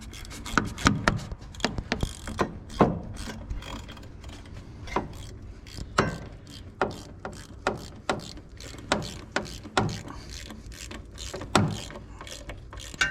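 Repeated clicking and ratcheting of a hand ratchet tightening a bolt on a 12-valve Cummins engine, bursts of sharp mechanical clicks at an irregular pace, close by, with faint grinding in between.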